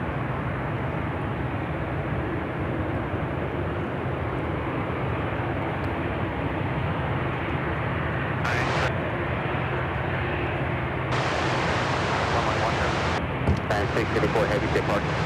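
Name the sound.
Atlas Air Boeing 747-400 freighter arriving at Chicago O'Hare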